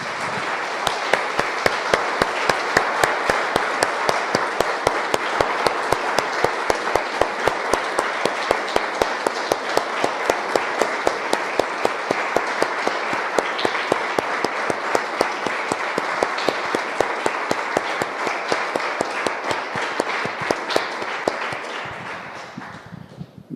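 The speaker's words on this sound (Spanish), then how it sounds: "Le damos un aplauso," A church congregation applauding, long and steady with the clapping settling into a rhythmic, unified beat that carries on evenly for over twenty seconds before tapering off at the end.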